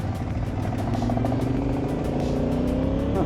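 A car drives along a snowy high-altitude mountain road in Tibet, its steady engine drone rising slightly in pitch as it passes close by, loud and continuous without any talking.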